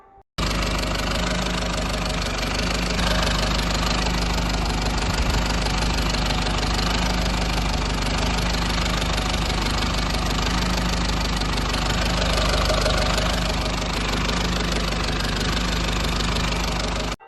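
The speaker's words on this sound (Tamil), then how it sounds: "இன்ஜினோட நாய்ஸையும் லைவாக கேட்டுருங்க." A 2013 Tata Sumo Gold nine-seater sits idling, its engine giving a steady, dense rumble with a faint knocking texture, heard close and unbroken for the full length with no talking.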